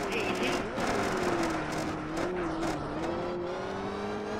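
Rally car engine in Richard Burns Rally on the Courcelles Val D'Esnoms stage, holding a steady high-revving drone with small throttle wobbles and gear shifts, loud and close, with the driver talking over it.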